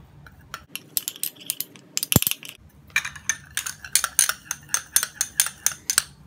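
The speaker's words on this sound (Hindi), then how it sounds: "इन सब चीज़ों को हम मिक्स करेंगे।" Homemade face cream ingredients mixed in a small container, a brisk run of light metallic clinks and taps from a spoon stirring, close and fairly quiet, with a sharp knock partway through.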